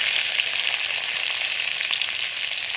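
Chopped garlic dropped into hot oil in a wok where dried loitta fish has just been fried, giving a steady, loud, close sizzle with a constant crackle and no pauses.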